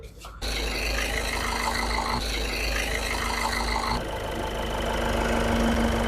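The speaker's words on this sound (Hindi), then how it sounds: "इंजन का आवाज भी बहुत बेहतरीन हो गया" A Ford Figo Freestyle diesel engine starts and settles into a steady, even idle close by, with a constant low rumble and mechanical whine.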